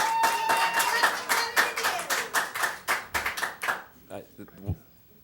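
Clapping fills a board meeting room, a dense burst of applause from the audience that thins into scattered individual claps before fading out, with a voice briefly heard over it.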